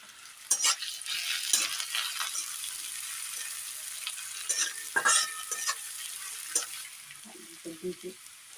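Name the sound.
onion, ginger and garlic frying and being stirred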